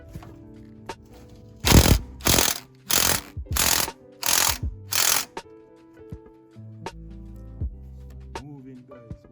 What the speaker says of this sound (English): I'm gonna see if I can go ahead and crack them now guys